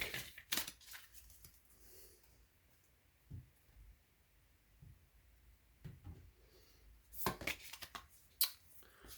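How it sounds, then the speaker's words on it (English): Crisp riffling and soft slaps of a card deck being shuffled and cut, a few quick bursts separated by quiet handling noises. "I'm going to do one more shuffle and cut the deck."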